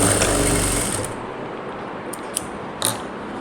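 A sewing machine stitching the side seam of a blouse, a close, steady whirring run that stops after about a second, followed by a few faint clicks and light handling sounds.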